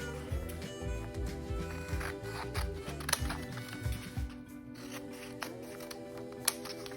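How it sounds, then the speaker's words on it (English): Scissors cut lines into paper, a series of close, quiet snips and rustles with the sheet shifting between cuts, under a low background hum, without speech. "So now you are going to go ahead and cut those lines"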